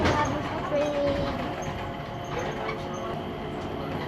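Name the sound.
Changi Airport Jewel train arriving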